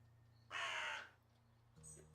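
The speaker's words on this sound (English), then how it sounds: "The crow's so loud." A crow in the video game Wytchwood gives a single loud, harsh caw over a faint steady game background hum, followed by a softer tonal sound near the end.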